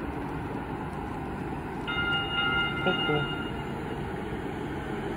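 A streetcar tram pulls in at a stop in Washington State with a steady low rumble, and a short run of horn-like tones sounds midway. People talk nearby.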